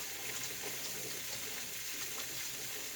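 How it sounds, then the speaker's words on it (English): A kitchen sink tap runs steadily with a constant hiss of flowing water, moderately close and with no talking. "you would not believe how long this sink has to run to get the hot water here"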